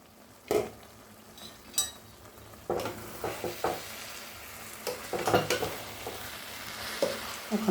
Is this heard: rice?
yes